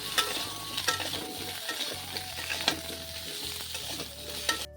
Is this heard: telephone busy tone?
no